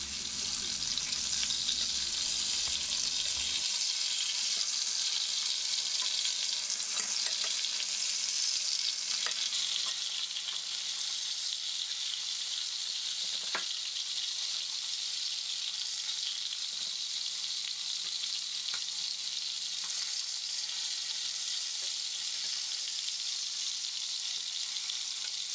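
Batter-coated leeks frying in hot oil, a dense, steady hiss and crackle that carries on evenly throughout, close and without talk.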